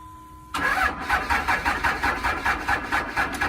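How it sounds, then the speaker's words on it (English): A construction truck engine cold-starts after a brief quiet moment, catching abruptly and settling into a loud, close, lumpy idle with a steady pulsing throb. "Someone complained about me cold starting my trucks."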